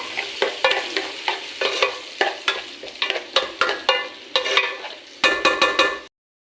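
Onions sautéing in a pan of browned garlic for squid spaghetti: a steady, close sizzle broken by a regular rhythm of spoon scrapes and stirs that ends abruptly.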